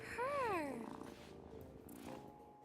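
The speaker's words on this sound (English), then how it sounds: "Listen to that purr." A cat purring in the game Wylde Flowers, with a short rising-and-falling trill at the start followed by a soft, steady purr, close and moderately quiet.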